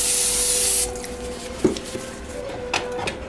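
Cooking spray from a can hisses onto a glove in one sustained near burst, followed by quieter rubbing and handling noises.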